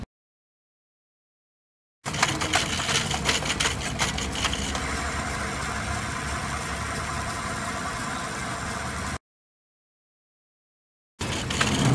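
A small bike spins a wheel backwards, giving a steady droning motor hum that runs for about seven seconds, cuts out abruptly, then starts up again near the end.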